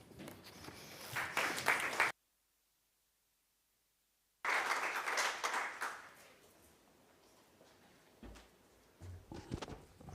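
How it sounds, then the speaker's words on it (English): Lecture audience at a lung cancer workshop applauds. Two bursts of clapping are split by a few seconds of silence, then the applause fades into scattered claps and footsteps. "Why are you clapping?"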